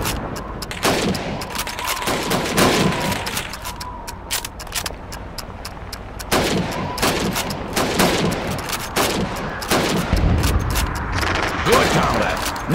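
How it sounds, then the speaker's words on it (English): Rifles firing at helmets during basic training in Call of Duty 2, a run of loud, sharp shots in irregular bursts over a steady game background, with occasional voices in between. "You have 15 seconds to shoot the helmets."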